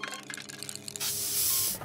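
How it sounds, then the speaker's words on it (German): Spray can hissing: a burst of faint music-like tones and then a loud, steady hiss for about a second before cutting off, with no talking. "Sprühdose! Sprühdose!"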